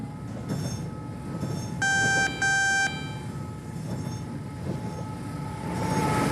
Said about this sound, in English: We're going to be a runaway locomotive now.